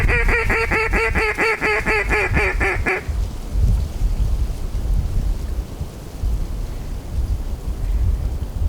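A duck call sounds a rapid series of loud, evenly pulsed quacking notes for about three seconds while calling ducks during a hunt, followed by steady rain and low rumbling background noise.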